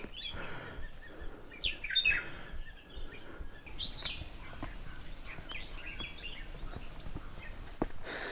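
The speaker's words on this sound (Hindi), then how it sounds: "पक्षियों की बहुत अच्छी आवाज़ आ रही है।" Birds sing in scattered bright chirps and short trills on a quiet mountain trek up to Harihar Fort near Nashik, Maharashtra. They sound moderately distant over faint rustling and footsteps.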